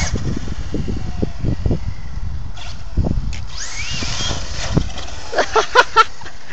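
Brushless Traxxas Slash 2WD RC car on a 3S LiPo pulling wheelies, a steady motor whine with wind noise and a few sharp bursts near the end, heard from some distance.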